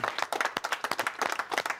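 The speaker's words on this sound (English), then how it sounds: "Round of applause, everybody." A small group claps outdoors after a garden makeover on a home renovation show, a quick burst of distinct close hand claps in an uneven rhythm, fairly loud and with no talk.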